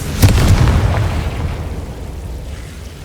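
A Confringo blasting spell explodes in the game Hogwarts Legacy, a loud booming burst with a few sharp pops at the start that rumbles and fades over a few seconds, with no talking.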